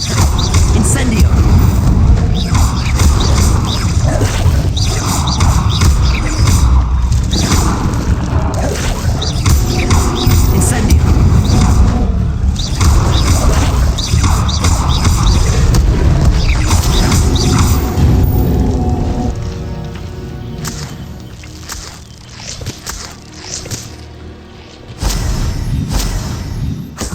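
A fire spell cast in Hogwarts Legacy bursts out loud and close with whooshing and crashing impacts, surrounded by a dense, continuous wash of game effects and music that thins toward the end.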